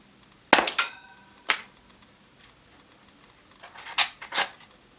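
A UK Arms P2400 airsoft pistol being fired, with a few sharp, close snapping cracks spaced out over a few seconds and quiet gaps between them.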